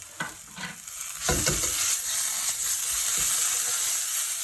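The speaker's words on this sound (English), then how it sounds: "Nicely mix it in together." Harissa paste being mixed into a sizzling Moroccan lamb tagine curry, with steady frying hiss under repeated stirring scrapes of a spoon through the pan, close and fairly loud.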